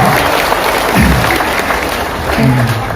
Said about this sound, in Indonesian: Tepuk tangan dong yang luar biasa dong.